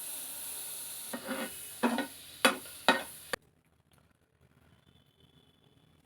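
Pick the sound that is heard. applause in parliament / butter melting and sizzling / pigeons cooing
butter melting and sizzling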